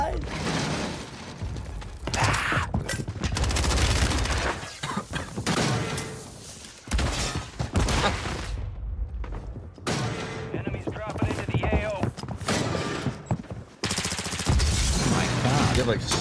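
Rapid bursts of grenade explosions and gunfire in a shooter video game, loud and repeated, with players talking excitedly over the blasts.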